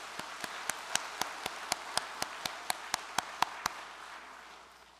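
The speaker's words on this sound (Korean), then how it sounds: "참 어머니께 힘찬 감사의 박수를 올려주시기 바랍니다." A slow, steady series of about fifteen single sharp claps, evenly spaced, fading slightly toward the end, as an audience gives thanks to a church leader at a religious gathering.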